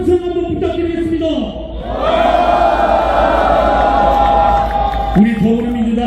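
A large crowd at an outdoor political rally in Korea roars with sustained shouting and cheering, loud and dense for several seconds, with an amplified speaker's voice before and after.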